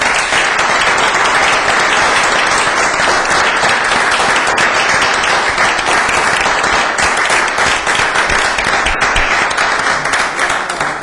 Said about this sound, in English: I hope everybody will join me in applauding our...